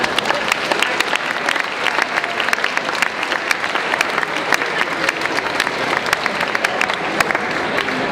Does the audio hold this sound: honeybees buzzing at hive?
no